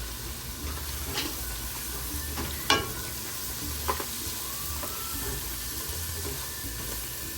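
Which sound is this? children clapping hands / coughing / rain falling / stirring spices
stirring spices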